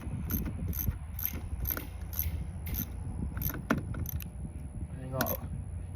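A ratchet tightens fasteners on an older port truck with a string of sharp metallic clicks in short bursts, close and fairly quiet, with faint low background noise underneath.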